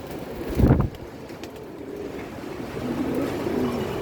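Pigeons coo softly and repeatedly near a tin-roofed coop, low murmuring calls under wind noise on the microphone, with one louder thump early on.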